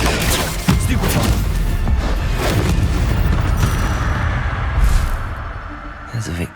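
In Hogwarts Legacy, a Stupefy spell is cast in a wizard duel, giving a dense rush of magical combat effects with a heavy impact thump early on and another burst later, against continuous game noise.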